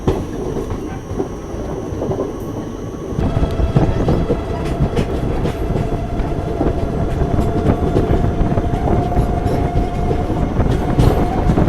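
Devgiri Express, an ICF-coach train, runs along the rails with a loud, continuous rumble and rhythmic clickety-clack of wheels, heard from inside a coach near the rear, with a faint steady whine joining partway through.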